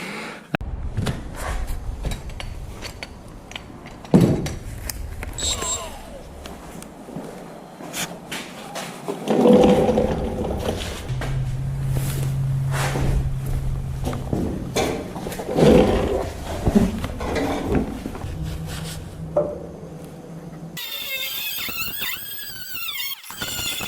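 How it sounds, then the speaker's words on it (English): An air hammer fitted with a punch drives rivets out of motor mount brackets on a 1960 Ford F100, producing a steady, loud, harsh mechanical rattle with rising and falling bursts and no talking. "I use this punch on the air hammer and just drive out the rivets."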